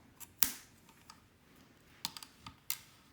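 Small cutters snip vape coil wire leads on a Radar RDA: one sharp, loud click first, then a few quieter crisp snips and clicks spaced over a few seconds, close up with no talking.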